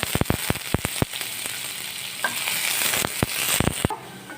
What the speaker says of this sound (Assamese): কেইটামান দি দিছোঁ পাঁচফোৰণ আৰু দি দিছোঁ ঘন ঘনকৈ কুটি লোৱা আদা নহৰু